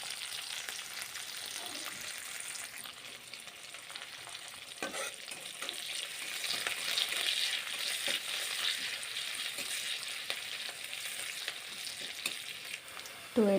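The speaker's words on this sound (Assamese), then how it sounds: "এতিয়া তেলখিনি গৰম হ'ল এতিয়া দি দিওঁ পিঁয়াজ আৰু জলকীয়া" Onions and green chillies fry in hot oil with a steady, close sizzle, broken by scattered scraping stir clicks and a sharp clatter at the very end.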